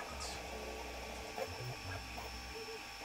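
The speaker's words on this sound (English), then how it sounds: "now you can hear the printer for what it sounds like" An SV06 Plus ACE 3D printer runs quietly in a room, its stepper motors whirring in shifting tones with a few small clicks over a low hum.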